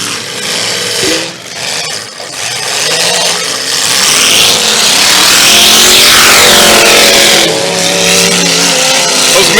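Race cars roar around a dirt track at night, engines loud and close, swelling into a sustained snarling drone as cars pass, with bursts of wind-like rush and no talk.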